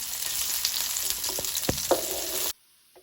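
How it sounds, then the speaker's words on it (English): Garlic and vegetables sautéing in hot oil for Italian pasta in plum tomato sauce, a steady close sizzle with a few utensil scrapes and knocks, cutting off abruptly to near silence before one faint tap. "We're gonna add garlic and our vegetables, and we're gonna saute it for a couple of minutes."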